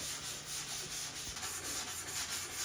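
Steady sanding on a Mazda Miata car body being prepped for paint in a garage, a continuous close rubbing scrape with slight rhythmic pulses and no talk.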